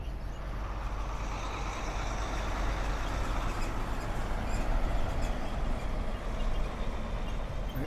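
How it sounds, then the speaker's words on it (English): A truck rumbles past at Toronto Pearson airport, a broad steady engine roar that swells slightly toward the middle before easing, with no talk. "Including a truck going in front of your screen"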